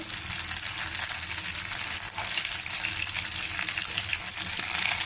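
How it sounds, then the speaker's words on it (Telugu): Stuffed brinjals fry in a pan with a steady, dense hiss and crackle of oil that continues evenly throughout, close and moderately loud. "బాగా వేగుతున్నాయి"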